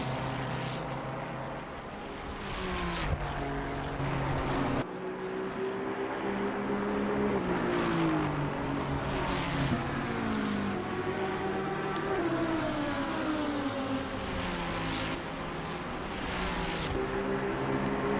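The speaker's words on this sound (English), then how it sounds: "So just listening to the engines, it's been so long." GT3 racing car engines in Assetto Corsa Competizione at Spa drone and whine continuously, pitch rising and falling as cars accelerate and pass, loud and close with no talking.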